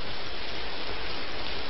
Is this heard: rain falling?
yes